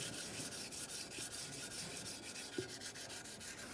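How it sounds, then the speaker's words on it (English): Steady scratchy rubbing, a hand sanding block worked back and forth in close, even strokes over a Dodge Ram 2500 intake gasket surface, with a soft bump near the end. "Once it's scraped, I'll be using my sanding block."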